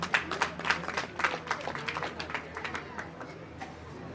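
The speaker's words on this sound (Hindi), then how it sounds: "जोरदार इन मातृशक्ति का ताली बजाकर सम्मान करें।" An audience at a community honouring ceremony claps, a loose patter of hand claps that fades over a few seconds while a voice speaks over a PA.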